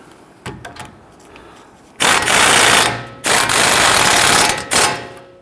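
Ratchet snugging down the axle nut on a rear left CV axle of a 2010-2019 Ford Taurus: three sustained bursts of rapid clicking, loud and close, after a few faint taps.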